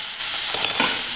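Potatoes frying in a nonstick or iron tawa give a soft, steady sizzle with a few faint clinks, growing slightly louder midway, with no talking.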